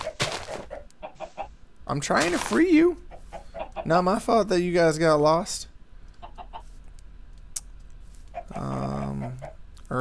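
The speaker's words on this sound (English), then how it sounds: "God, there's so many chickens." A flock of many chickens clucking and squawking all around, close and loud in bursts, with someone talking over them throughout.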